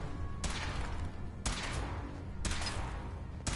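Test gunfire from a power armor suit in a Fallout video game: three loud, evenly spaced shots about a second apart, each a sharp crack with a short rumbling tail.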